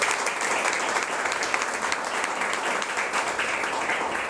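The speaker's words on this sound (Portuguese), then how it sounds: "E as palmas louvem e exaltem ao nome do Senhor." A church congregation applauds during a worship service, steady dense clapping filling the room with no break.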